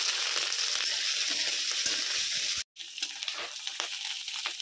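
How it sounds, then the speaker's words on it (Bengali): Periwinkles fry in hot mustard oil with a steady, close hiss and sizzle that breaks off for an instant midway, then resumes. "ওনায় সরিষার তেল দিয়ে দিয়েছি, তেলটা গরম হয়ে গেছে, গেঁড়িগুলো ভেজে নিচ্ছি।"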